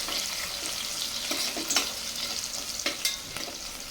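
Small onions sautéing in a pan for mutton kuzhambu, a continuous close sizzle with occasional sharp stirring scrapes and clatters.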